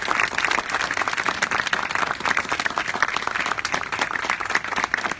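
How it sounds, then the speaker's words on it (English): A crowd applauds contractors and staff at a park dedication and lighting event, continuous full clapping at an even level from start to finish. "Please, a round of applause for everyone."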